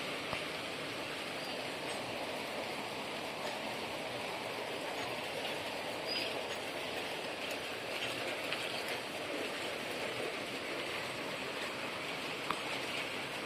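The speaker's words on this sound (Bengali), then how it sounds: "মোটামুটি বৃষ্টিটা ভালোই শুরু হয়েছে এই মুহূর্তে" Steady rain hisses evenly, a dense broadband wash of falling drops with no breaks and no speech.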